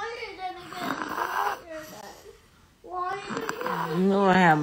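A baby snores in rough, raspy bursts with a pause between them. The last burst is voiced and breathy, and a voice seems to blend in.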